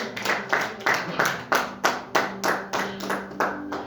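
A church congregation claps in unison to acclaim the Lord, about a dozen loud, sharp claps in a steady, even rhythm with no pauses.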